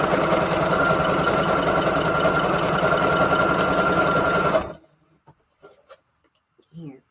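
A sewing machine stitches in a fast, steady mechanical chatter for about four and a half seconds, loud and close, then stops abruptly, leaving near silence with a few faint clicks and handling sounds.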